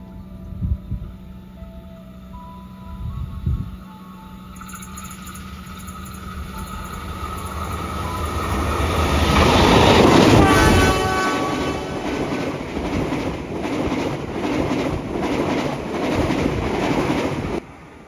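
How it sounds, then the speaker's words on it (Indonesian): The Sawung Galih passenger train rumbles past a double-track level crossing with a loud swelling roar and rhythmic clatter of wheels, building to a peak then continuing steadily close by. "Rupanya kereta Sawung Galih ya, barusan melintas."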